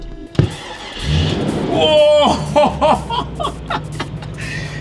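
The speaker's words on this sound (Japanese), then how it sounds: "おそらくこの赤いボタンでスイッチをオンにしてこれを押すとエンジンがかかるのかな。" A custom-built show car's engine cranks and fires up after a red switch is flipped and a start button pressed, settling into a steady low idle rumble while people chatter and react over it.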